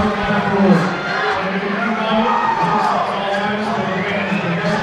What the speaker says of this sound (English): The fans are cheering on their hometown kid, Sugar Sean Soliz